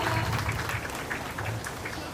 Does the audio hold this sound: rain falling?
no